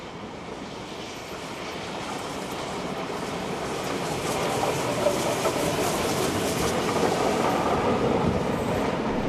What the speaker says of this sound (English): 3526 is now seen passing through with its last train for the day to Hurstville.